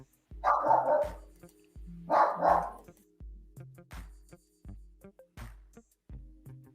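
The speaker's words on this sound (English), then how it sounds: "My dog's going crazy about something outside still." A dog outside barks loudly in short repeated bursts, some single and some doubled, across the whole stretch with no talking over it.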